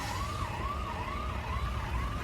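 An ambulance siren wailing in city traffic at a circle, a rising and falling electronic tone heard steadily from a moderate distance over low engine rumble, with no talk.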